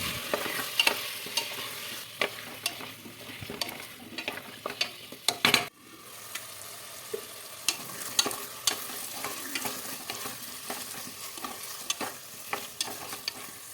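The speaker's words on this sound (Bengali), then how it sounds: "এখানে আলু আর গাজরটা দিয়ে দেবো নাড়িয়ে দেবো ভালো করে" Vegetables for a chicken stew, tomato, potato and carrot, are stirred in a pot, giving soft scraping and irregular clicks of the spoon against the pot. The sound is fairly quiet and steady, with a sharper clatter near the middle and no voices.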